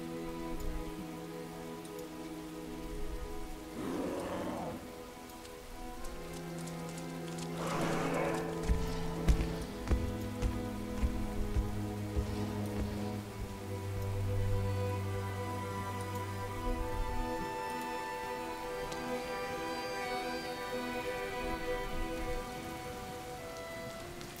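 Rain patters steadily and evenly throughout, a soft continuous hiss with sustained musical tones underneath.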